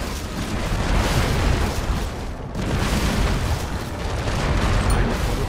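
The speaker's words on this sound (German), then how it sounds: "Eines ihrer Schiffe steht unter Beschuss." Dense, continuous rumbling barrage of heavy booms and blasts from ship cannon fire and explosions in the video game Anno 1701, loud and close, with no pauses, like a battle.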